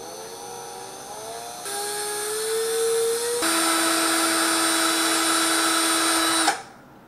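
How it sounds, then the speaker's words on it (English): A power drill twists strands of 28 gauge wire into a micro coil, its motor whine stepping up in speed in stages from slow to fast, holding a steady high pitch before cutting off abruptly. "now we're just going to fire the drill up"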